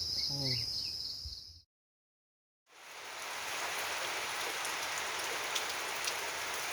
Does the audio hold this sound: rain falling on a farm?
yes